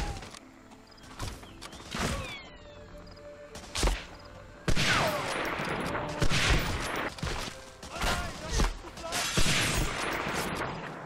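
Gunfire in Medal of Honor Frontline: scattered sharp shots and clustered bursts among thuds and mechanical clicks, with a player talking over the game action.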